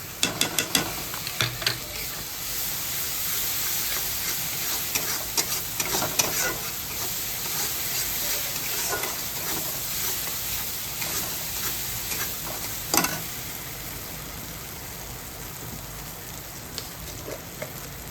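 Mustard paste being stirred into a spice mixture frying in a pan for prawn malai curry, a steady close sizzle with scraping stir strokes and occasional sharper clicks, no talking.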